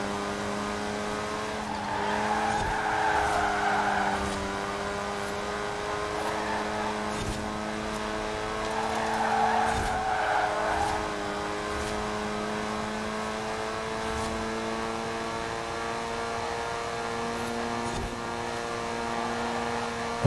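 Engine of a Morris Minor race car in Forza Horizon 4 drones steadily throughout at a constant pitch, with two swelling bursts of tyre squeal while cornering, a twitchy car driven flat out near its 130 mph limit.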